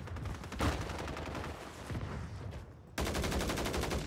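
Bursts of rapid automatic gunfire in Call of Duty on Rebirth Island, several loud volleys crackling close by with a sharp renewed burst near the end, no talk over them.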